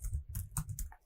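A handful of keystrokes clack on a computer keyboard in a quick irregular burst, close and fairly quiet, while data is entered into a Power BI dashboard.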